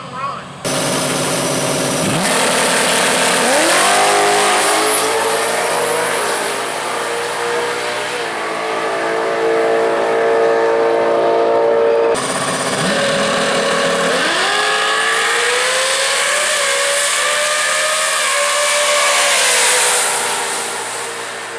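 A 2006 Pontiac GTO launches down a drag strip, its engine revving hard and climbing through gear shifts with loud roaring passes and a brief drop between pulls, all close and loud.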